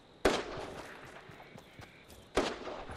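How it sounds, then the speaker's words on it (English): Two sharp gunshots in Fortnite: Battle Royale, a couple of seconds apart, each loud and cracking with a brief echoing tail over a quiet background. "And I do hear those gunshots."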